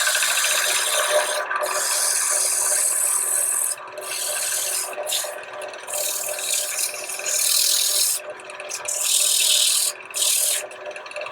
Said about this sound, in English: A little sanding here to clean this edge up.